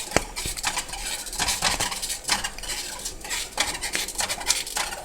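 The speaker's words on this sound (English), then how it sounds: "you want to continually stir it, bringing it back to a boil again" A spoon stirs strawberry jam with Certo in a pot, making repeated scraping sweeps and metallic clinks against the sides over a faint low bubbling, with no voices.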